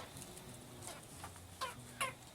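Chickens clucking softly in short bursts, with a couple of sharper squawks toward the end over quiet farmyard ambience.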